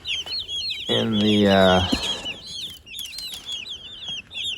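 Young meat bird chicks in a brooder give a steady run of high, close peeps and clucks, with some rustling that may be wing flapping. A voice speaks briefly in the middle.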